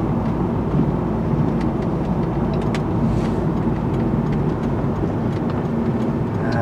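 A truck rolls past a car on a road, a loud steady broadband rumble with passing traffic whooshes throughout.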